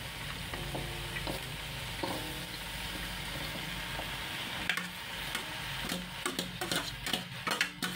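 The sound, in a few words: stirring kamansi and vegetables in pot for ginataang kamansi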